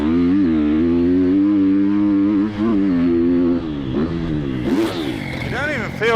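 A Triumph TF250 X motocross bike revs hard out on a track, its engine note rising and falling through throttle changes with rattling, clattering bursts near the end, loud and close.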